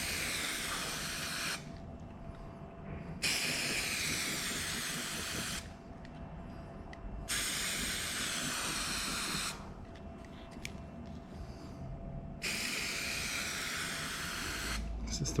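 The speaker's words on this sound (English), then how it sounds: "we're going to double up on the spray on the edges" Bursts of aerosol adhesive spray hiss in several long pulses along carpet edges for car cloth trim, separated by brief pauses, close by with faint background rumble.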